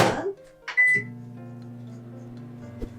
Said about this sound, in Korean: 전자레인지에 10초, 20초만 돌려주셔도 돼요